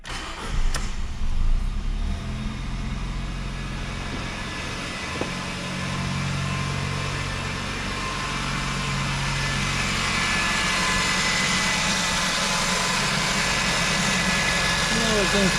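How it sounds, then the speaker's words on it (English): A Ford Fiesta 1.3 petrol engine, overheating with a coolant leak, is started with the coolant cap open and settles into a steady, close idle hum that continues throughout. "Now I'm going to start the engine."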